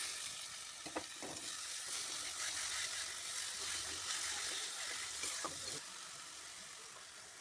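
Ginger-garlic paste and onion paste sizzle in hot oil in a pan for a Bengali spicy chicken curry, a steady, fairly loud frying hiss broken by a few soft stirring scrapes near the start and toward the end.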